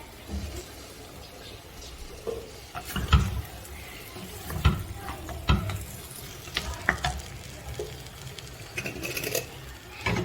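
Lamb and vegetables sizzle steadily in a hot pan while a utensil stirs and scrapes through them, several sharp clacks and scrapes rising over the continuous frying hiss, close and fairly loud.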